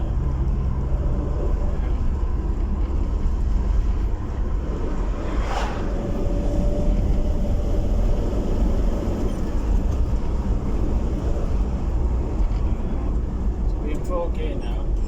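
An LDV Maxus van driving along, with a steady loud engine drone and road rumble throughout, a constant low roar with no clear pauses.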